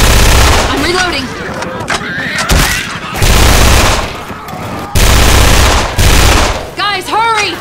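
Bizon Arachne submachine gun, a weapon from Alliance of Valiant Arms, firing in a Left 4 Dead 2 mod: loud rapid bursts in several separated volleys, broken by short pauses and mixed with whooshing game effects.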